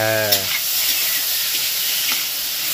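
Large prawns frying in very hot oil, giving a steady loud sizzle and hiss with crackling throughout, with a brief low tonal hum at the start.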